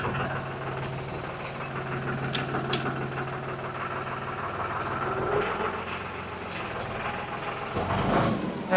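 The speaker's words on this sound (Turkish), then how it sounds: "Çok az bir şey ileri alacağım şimdi traktör arkadaşlar." A heavy diesel tractor engine rumbles steadily close by as the tractor moves slightly forward, with a low droning hum, occasional clanks and a rise in engine noise near the end.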